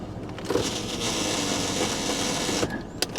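A Jeep Liberty in four-wheel-drive low with its front differential missing gives off a steady mechanical whirring grind from the drivetrain, moderately loud, ending with a few clunks.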